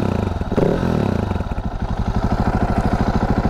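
A Husqvarna 701 single-cylinder motorcycle engine runs close by, with a rough, rapid chugging pulse that briefly blips louder early on and then settles into an even, steady idle with no talk.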